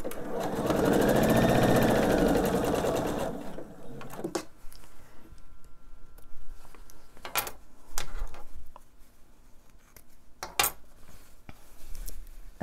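A sewing machine pieces fabric strips together for quilt bias binding. A close, steady mechanical whir runs for about four seconds, then stops, leaving quieter clinks and handling noises.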